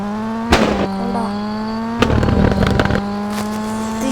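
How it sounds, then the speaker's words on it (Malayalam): A car engine idles with a steady drone while its exhaust backfires, throwing flames; a sharp pop comes early, then a cluster of loud crackling bangs follows a moment later, close and harsh over the running motor. "ഇതിന്റെ ബാക്കിൽ നിന്ന് തീ പോകുന്നുണ്ട്."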